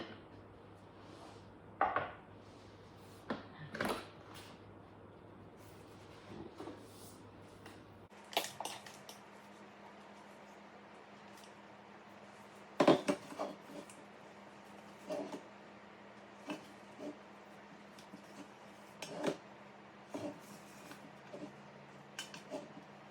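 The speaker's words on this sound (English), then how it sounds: "we're going to pop all this mixture into a large bowl" Chocolate chunk cookie mixture is scraped from a Thermomix into a large bowl, heard as scattered scrapes, knocks and clatters of utensils against the bowl separated by quiet pauses, with no talk.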